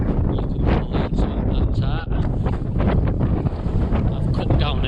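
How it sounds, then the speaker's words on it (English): Steady wind buffeting the microphone on flat moorland at Edale, a loud continuous low rumble with gusty surges throughout. "the wind today is not really helping me that much"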